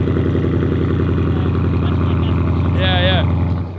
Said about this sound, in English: Trav got a new exhaust